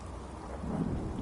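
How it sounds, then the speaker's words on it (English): Rain with a low thunder rumble in Fallout 4, a short stretch of steady downpour with a deep rolling swell rising near the end, no voices. "It's raining."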